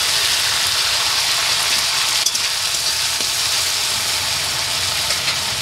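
Tomato added to a hot pan with spices and water, a steady loud sizzle and crackle close by, with a faint scrape of stirring partway through.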